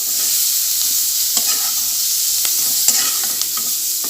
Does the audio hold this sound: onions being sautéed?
yes